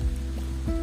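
Steady rain falls around a small mountain refuge, a continuous soft patter close by with low rumbling underneath and no voices.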